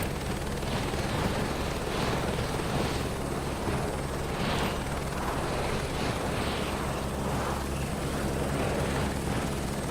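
A helicopter in Flight Simulator 2024 rumbles with a steady, loud rotor and engine drone, a low continuous whir with rhythmic blade pulsing and no pauses throughout.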